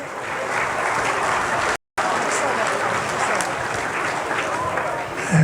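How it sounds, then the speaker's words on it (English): An audience at a New Zealand shearing championship applauds steadily and loudly, a dense wash of clapping with a brief cut partway through and maybe a few cheers mixed in. "How about a big round of applause for all of our competitors?"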